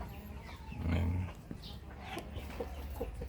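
A gentle Rhode Island hen named Lulu gives a few faint, low clucks close by in a coop after heavy rain, with soft background rustle.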